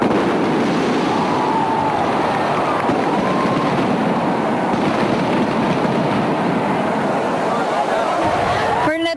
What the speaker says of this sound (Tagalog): Isang engrandeng fireworks display naman ang tumapos sa kasiyahan.